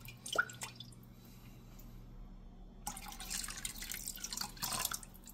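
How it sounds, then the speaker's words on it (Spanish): A little water is poured into a cooking pot while making pumpkin cream soup, a faint trickle and drip near the start, then a louder bright splashing wash in the second half. "Echo un poquito de agua aquí para."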